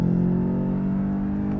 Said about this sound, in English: A lot of pipes and engine noise there.